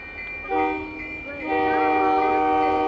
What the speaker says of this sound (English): That's a train. Just going slowly.